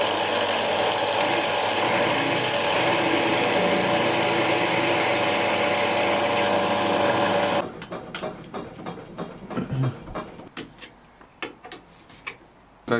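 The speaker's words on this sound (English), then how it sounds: "Now we can drill that to a bigger hole," A power drill enlarging a bolt hole in a Nissan Navara D40 turbo mounting, a steady high whine for about eight seconds, then stopping and giving way to scattered clicks and taps.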